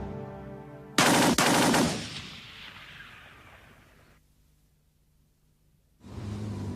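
A firing squad execution sounds as a sudden loud volley of several rapid shots that rings out and decays into a long fading rumble, then a brief near-silence before a loud roar returns.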